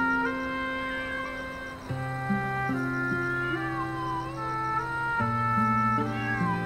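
A cat meows in long, drawn-out cries with sliding pitch, several calls one after another, close and fairly loud, with no talking over them.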